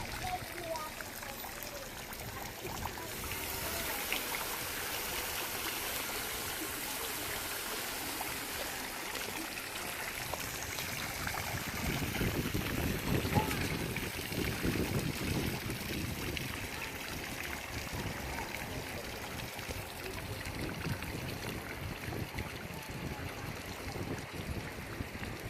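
Water splashing in a former Orange Circle fountain once used as a wading pool, heard as a steady broadband wash with a louder stretch midway, under outdoor ambience and occasional talk.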